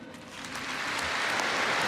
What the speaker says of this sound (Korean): 70년 만에 복귀하신 대한민국의 영웅들을 큰 박수로 환영해 주십시오.